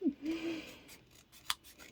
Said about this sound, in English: So just cutting around it again.